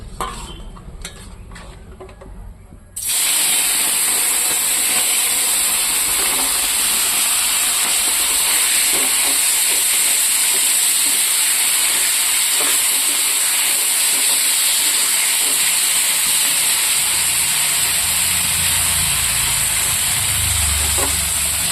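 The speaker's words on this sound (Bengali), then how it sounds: "এই ট্যাংরা মাছগুলো ভাজা করে নেব।" Tangra fish frying in hot oil, a loud, steady broadband sizzle that bursts in abruptly after a few seconds of quieter kitchen noise and holds constant to the end, with no talking.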